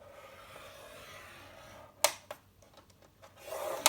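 Cardstock scored on a paper trimmer for a Z fold card: after a quiet stretch come a few sharp, close clicks and short scraping strokes, ending in a brief rasping pass and a final snap.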